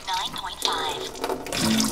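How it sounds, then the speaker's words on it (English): Calming water rushes and splashes steadily for a couple of seconds, a bright continuous wash that swells slightly toward the end. "Calming water"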